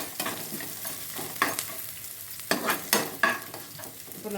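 Colocasia leaf thoran stirs and fries in a pan, a soft steady sizzle broken by several sharper scraping strokes of a spoon.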